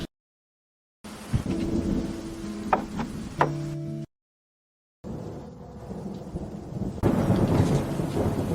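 A thunderstorm near a back cliff: steady rain hiss with deep rolling thunder and a couple of sharp cracks, broken by short silent cuts before the rain returns heavier.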